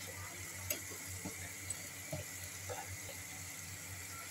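Paneer cubes sizzle faintly in a pan while chilli paneer is being made: a quiet, continuous frying hiss broken by a few soft clicks and taps of stirring, with no talking.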